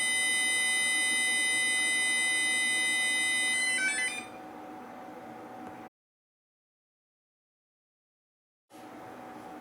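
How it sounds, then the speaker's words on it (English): A Texecom Premier intruder alarm keypad sounds its exit timer tone after arming, a steady high-pitched electronic tone that holds for several seconds and then cuts off. A stretch of silence follows before faint room noise returns. "You then press yes, which will then start their exit timer and tone"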